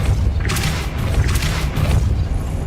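A Depulso force-push spell cast in Hogwarts Legacy, with two or three bursting whooshes over a steady low rumble of game ambience.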